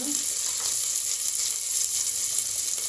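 Green chillies sizzling in hot oil in a frying pan, a loud, steady, close hiss of frying that holds evenly throughout with no voices.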